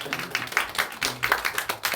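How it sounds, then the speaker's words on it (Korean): A church congregation at an Easter Sunday service claps in a short, loose burst of encouragement for churchgoers, with scattered, uneven hand claps that sound fairly close and moderately loud, and no talking over them. "한번 박수로 격려하십시다"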